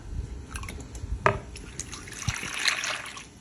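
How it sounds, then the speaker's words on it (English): A cup and a half of milk being poured into a bowl of butterscotch pudding mix for a no-bake holiday cake, giving a soft, continuous trickle with a few light clinks, close and without talk. "we're going to pour a cup and a half of milk"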